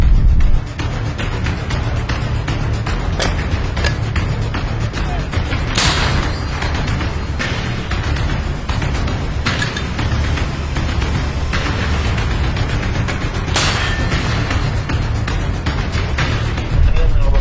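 A few loud, sharp booms of artillery fire near Sviatohirsk, Ukraine punch through steady wind and rumbling noise, spaced several seconds apart.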